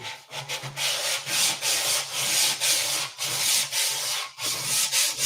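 A tank's surface is sanded by hand with 220-grit sandpaper in steady back-and-forth rasping strokes, loud and close with brief pauses between passes.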